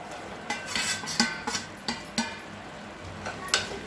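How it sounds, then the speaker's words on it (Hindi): A spatula scrapes and clinks in a pan as potatoes and cluster beans are stirred into cooked masala, sharp irregular knocks repeating every half second or so over a quiet background, close and distinct with no talking. "तो मैं अब आलू को और गवारफली को भी इसी में डाल दूँगी"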